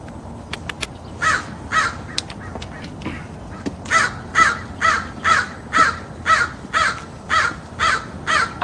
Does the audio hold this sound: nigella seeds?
no